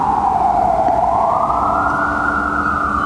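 Emergency vehicle siren passing very close, loud and continuous, its wailing tone gliding slowly upward over a dense rumble of traffic, with no talk over it.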